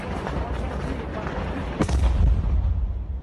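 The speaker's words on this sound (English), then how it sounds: "They got pretty close explosion or shelling," Close explosion or artillery shell striking near the camera in war footage: a sudden heavy blast with a deep rumbling roar that swells and lingers over constant noisy field background.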